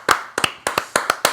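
About eight sharp hand claps in quick, uneven bursts, close and crisp, with nothing else around them.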